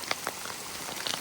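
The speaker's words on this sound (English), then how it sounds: "it's really raining now" Rain falls steadily during a wilderness camping trip in Yosemite, a soft, dense patter with a few sharper drops nearby.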